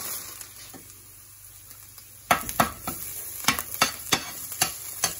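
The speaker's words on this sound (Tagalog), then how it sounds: "Ngayon nagisa na yung bawang" Chopped garlic sautéing in a pan for shrimp stir-fried rice with vegetables, a quiet sizzle at first, then louder scraping stirs with a spatula from about two seconds on, knocking in an uneven rhythm over a steady frying hiss.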